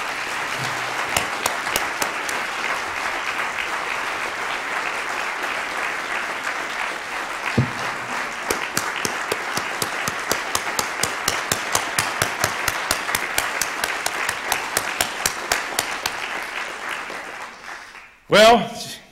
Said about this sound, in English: Now please join me in applauding all these deserving award winners.